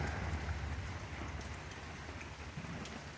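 Rain patters steadily on an early Sunday morning, a dense, even hiss with scattered close drops and no voices, continuing throughout.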